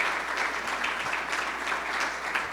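A seated audience applauds steadily to welcome a speaker onto the stage at a business outlook event, a dense, even patter of clapping that holds at a moderate level for the whole stretch.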